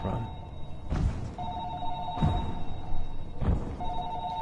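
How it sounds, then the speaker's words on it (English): A telephone rings repeatedly inside the underwater game Narcosis, each ring a steady electronic trill in regular bursts, with dull thumps and faint background noise between them. "Where's that ringing coming from?"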